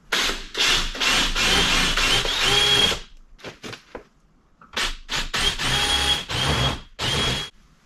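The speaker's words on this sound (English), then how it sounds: "mark the holes I need to drill for the fair lead" A power drill boring fairlead mounting holes in the bumper of a 200 Series Land Cruiser, heard as loud, close bursts of whining drilling separated by short pauses and a few lighter clicks.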